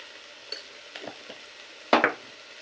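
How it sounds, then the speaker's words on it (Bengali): Mustard-poppy paste and okra frying in a pan for a spicy okra dish, with soft sizzling and a few scattered scrapes of stirring before one louder double scrape near the end. "তো এবার সর্ষে পোস্ত দিয়ে আমি এটাও মিনিট 2 কষিয়ে নেব।"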